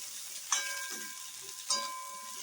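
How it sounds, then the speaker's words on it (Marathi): Sliced okra (bhindi) stir-fried in oil over low heat for masala bhindi, a steady soft sizzle broken twice by brief scrapes of stirring, close and alone with no talk. "ती ह्याच्यात घालायची, चांगली फ्राय करून घ्यायची आहे. बारीक गॅसवर एकदम सारखं हलवायचं असं"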